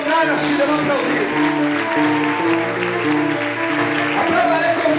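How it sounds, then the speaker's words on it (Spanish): Church congregation applauding during a worship service, dense clapping running throughout under a loud singing or preaching voice and music. "Apláudale con ganas si le va a aplaudir al Señor."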